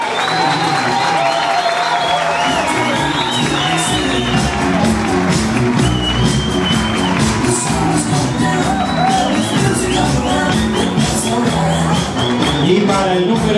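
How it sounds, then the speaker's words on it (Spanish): Sustained applause from a dinner audience at an Italian community centre, steady and loud clapping mixed with shouts and whoops from the crowd, lasting well over ten seconds. "El aplauso."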